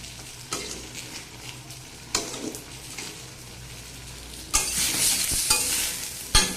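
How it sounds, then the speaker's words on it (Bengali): Napa greens are stirred in a hot pan, with a loud, close sizzle broken by repeated scraping strokes of the spatula that grow heavier toward the end. "এখন কিন্তু শাকটা একটু বেশ ভালো করে নাড়াচাড়া দিতে হবে।"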